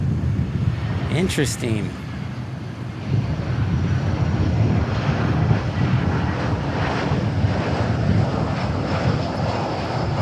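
Qantas Boeing 787 Dreamliner airliner at DFW airport, a broad steady engine roar with wind buffeting the microphone, while a person speaks briefly near the start.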